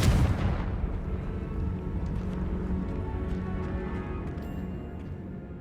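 A Confringo fire spell explodes in the Hogwarts Legacy video game with a loud, deep boom at the start, then a long rumbling decay over several seconds with a few faint crackles.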